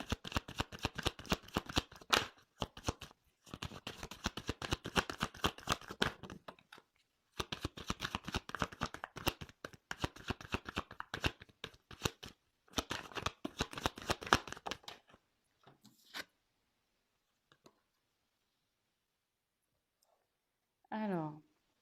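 Tarot cards riffle and flutter in long close shuffling bursts with brief pauses, followed by quieter taps as cards are drawn and laid down.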